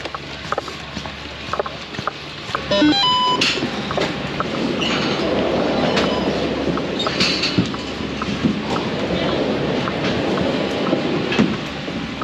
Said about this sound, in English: I'm pretty sure this is the gondola that takes us to the top of Killington Peak